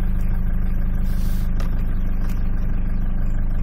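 A Mitsubishi Pajero engine idles steadily up close with a low, even rumble and no throttle changes, its revs holding rather than dying away despite a stalling fault.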